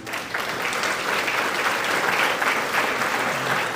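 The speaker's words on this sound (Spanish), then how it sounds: "Vamos a dar un aplauso a los que ya la leyeron." A church congregation applauding, a dense sustained clapping from a crowd that fills the whole stretch at a steady level.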